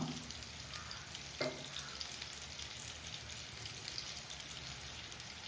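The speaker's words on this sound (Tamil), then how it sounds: "இன்னும் கொஞ்சம் எண்ணெய் போட்டுக்கலாம் அப்போ தான் ஃப்ரை ஆகும்" Brinjal shallow frying in oil in a pan on low heat, a steady, faint crackling sizzle with a brief clatter partway through, no talking.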